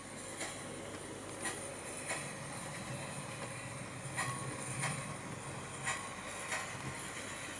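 A Hornby HM7000 Bluetooth model train approaches with a steady rolling rumble and periodic light clicks of wheels crossing track joints, moderately loud, with no voices.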